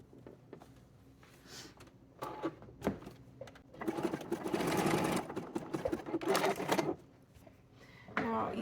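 Sewing machine stitching lace and a lining cup for a lace bodice, quiet bursts of rapid mechanical whirring separated by pauses and small handling clicks.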